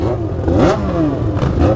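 Yamaha XJ6 motorcycle engine revs loudly and close, a continuous rising and falling roar outside a nightclub door with oil smoking on the exhaust.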